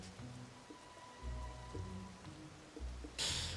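Rain falls steadily in the video game The Legend of Zelda: Tears of the Kingdom, a soft continuous patter with low game ambience beneath and a brighter hiss swelling near the end, with no voices.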